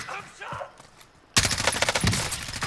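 Bursts of gunfire in Call of Duty Warzone, quiet distant shots at first, then a sudden loud, rapid automatic volley close by that continues to the end.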